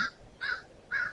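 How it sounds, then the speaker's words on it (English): A crow caws three times in quick succession, each call rough and clear, standing alone over faint background hiss. "if you hear crows in the background, I'm sorry."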